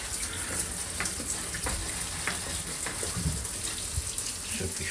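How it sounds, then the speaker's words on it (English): A tap runs steadily after repairs to a Vaillant boiler, giving a continuous hiss and splash of flowing water with faint clinks, close by and fairly loud throughout. "You've got water coming through."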